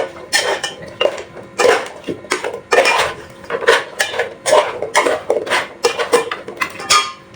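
A metal spoon stirs cloves and salt in a cooking pot, making loud, close, rhythmic scrapes and clanks against the pot in repeated bursts with no talking.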